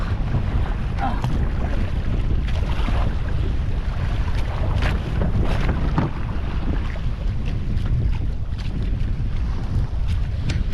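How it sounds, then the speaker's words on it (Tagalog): Strong wind buffets the microphone in a constant roar at sea, with water and fishing boat noise underneath; no voices. "Ang lakas ng hangin."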